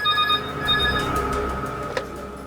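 A telephone rings close by in an office scene, with a bright electronic trill repeating in short bursts over a low hum, followed by a brief click near the end.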